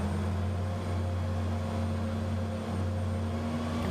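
Airliner engines in Microsoft Flight Simulator 2020 spooling up on an E-Jet at Cape Town: a steady turbine hum with strong low tonal bands and a broad whoosh, even and continuous, without speech.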